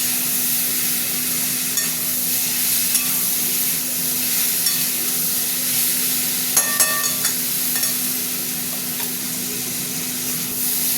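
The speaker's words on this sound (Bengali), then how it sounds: "আবারও নাড়াবো এখন।" Spices frying in a pan for a fish curry with bitter gourd, giving a continuous close sizzle and hiss, with scattered scrapes and clinks of a spoon stirring through the pan.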